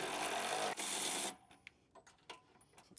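A power tool removes a 13mm bolt on a Ford Bronco's rear bumper, giving a loud, close whirring burst of about a second and a half with a brief break, then faint clicks and rattles.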